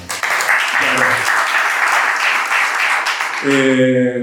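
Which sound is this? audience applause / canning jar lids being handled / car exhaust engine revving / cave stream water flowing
audience applause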